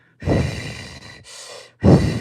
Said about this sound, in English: That's what it sounds like when your lips are pursed.